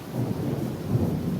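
A thunderstorm sound effect plays: a low, continuous rumble of thunder with a rushing rain-like hiss, moderately loud and steady for a brief moment, no voices.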